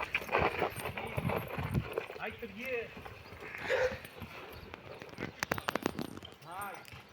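A young mare walks with steady, rhythmic hoof clip-clops close by, the beats sharper toward the end, while people talk and call out over them.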